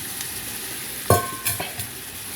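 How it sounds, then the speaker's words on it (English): Tomatoes and peppers cook in a pot for a jambalaya-style dish, giving a quiet, steady sizzle. A few sharp clanks and stirring scrapes of a utensil come from close by, and no one speaks. "what I'm going to do is put the tomatoes in, let these cook, build up a nice sauce"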